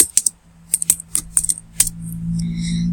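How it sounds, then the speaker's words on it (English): Fingers tap on a computer keyboard in quick, irregular clusters of crisp, close clicks, thinning out toward the end as a soft, faint tonal hum takes over. "You have some typing ASMR because I know everybody loves it."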